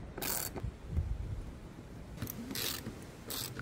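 A ratchet wrench clicks in repeated short bursts while bolting a roof rack rail onto a Ford Transit van, close and fairly quiet against a low background rumble.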